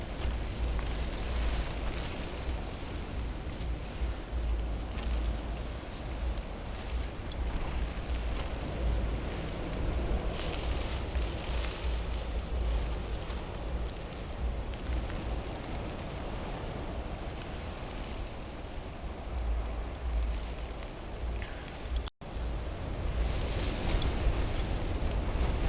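Gusts from the 2013 Nemo blizzard buffet a tent, giving a constant low roar with surging, flapping swells and a sharp thump near the end.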